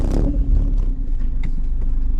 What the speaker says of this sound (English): I'm going to have the microphone go into the exhaust so you can hear the exhaust